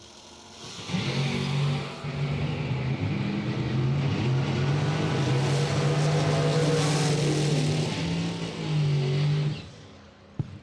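A 1970 Camaro and a 1970 Datsun 280Z launch side by side at a bracket drag race, their engines roaring loud and sustained for about eight seconds before cutting off abruptly.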